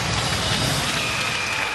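Studio audience applause on the Chilean game show Vértigo, a dense, steady wash of clapping that fills the clip at a constant level without breaks.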